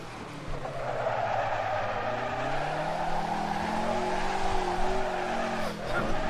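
A Ford GT40 race car in the driving game Assetto Corsa brakes hard: a loud, continuous engine note sweeps downward while tires hiss and skid under it for several seconds before a brief dip.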